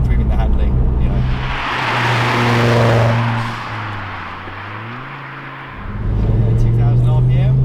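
A modified Ford Focus ST engine revs up with a rising whine, eases off into a deep rumble, then climbs again, loud and close.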